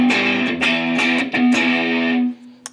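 Electric guitar run through a Tube Screamer-style overdrive model on an Avid Eleven Rack, loud, close distorted chords and sustained notes strummed in a few bursts before ringing out into a brief stop.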